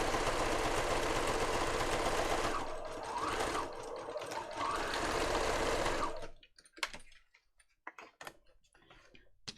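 A sewing machine runs steadily and loudly for about six seconds, its motor whirring with a fast stitching rhythm, then stops, leaving faint clicks and handling sounds.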